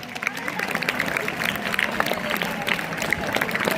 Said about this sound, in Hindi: तो उन बच्चों के लिए भी जोरदार तालियां